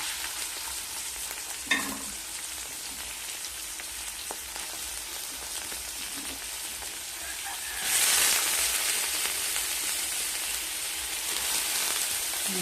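Squid dropped into a pan of hot oil: a steady, soft hiss runs throughout, then swells into a louder, brighter sizzle partway through and holds there. No one speaks.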